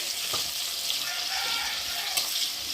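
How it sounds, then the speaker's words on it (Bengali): Chopped onions frying in hot oil give a steady, close, bright hiss with faint crackles and a few soft knocks, with no speech. "পেঁয়াজ কুচি দিয়ে দিলাম পেঁয়াজটা একটু ভালো করে ভেজে নেব"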